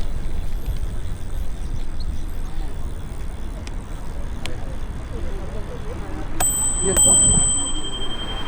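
A bicycle bell rings a few times, quick bright dings late in the passage, over steady road and traffic noise heard while riding through Central Park on a Jetson electric scooter.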